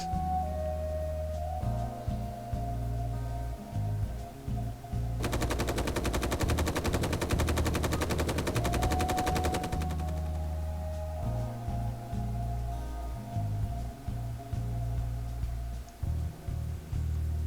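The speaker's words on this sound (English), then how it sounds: "Something is shooting at me." Automatic gunfire in the game Space Engineers rattles as one continuous rapid burst of about four seconds, standing out over a low droning engine hum and background music.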